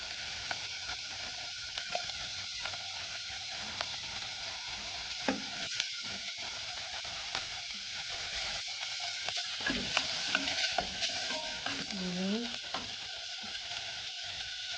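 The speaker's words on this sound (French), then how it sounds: "Bien mélanger." Fish filling with carrots and tomatoes stirred in a frying pan, a steady scraping and sizzling that runs the whole stretch at moderate loudness, with small clinks of the spoon and no talking.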